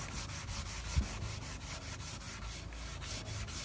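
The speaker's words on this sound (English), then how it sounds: "use the grip pad on most of these flat surfaces that you see" Grip pad scrubbing over an old varnished wooden chair, a steady rhythmic rubbing with repeated back-and-forth strokes, close and continuous, with one brief louder knock near the start and no voices.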